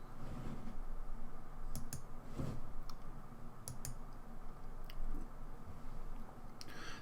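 Faint, sharp clicks from a computer mouse come in a few isolated bursts against a soft background hiss, close by and quiet.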